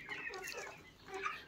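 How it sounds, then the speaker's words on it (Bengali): Native desi hens clucking in a brief, continuous murmur of soft calls, close by and moderately loud, with no talking. "এই দেশি মুরগিগুলা"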